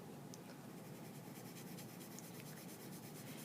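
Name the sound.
pencil shading paper in small oval motions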